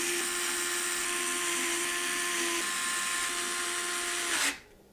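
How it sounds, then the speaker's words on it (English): A power driver sends short screws through the radiator of a Lian Li Galahad II Trinity AIO cooler into its bracket, giving off a steady, high motor whine that runs for several seconds and then stops abruptly. "we're going to secure the radiator to the bracket using the short radiator screws."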